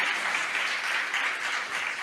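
Church congregation clapping together in praise, a dense, even wash of many hands sustained throughout, moderately loud with no voices standing out.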